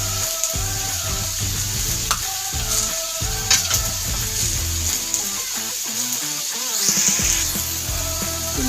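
Ground pork, Argentina brand, sizzles and crackles steadily in a hot pan for giniling with sayote, with occasional scraping stirs and clatters, loud and close throughout.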